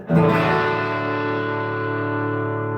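An electric guitar chord rings out loud and close through a Fender '65 Deluxe amp with no compressor engaged, a sharp strummed attack followed by a long, slowly fading sustain.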